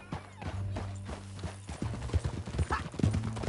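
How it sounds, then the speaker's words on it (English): A horse gallops in Red Dead Redemption 2, with rhythmic clip-clop hoofbeats close by, a brief whinny and rising, busier movement sounds toward the end. "Back on your horse, let's get after them."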